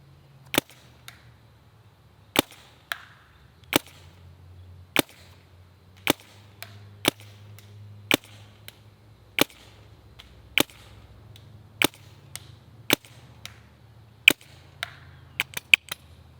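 A Planet Eclipse EMF magazine-fed paintball marker fires about a dozen sharp, loud pops at irregular intervals, with a quick cluster of shots at the end, close by over faint outdoor background noise.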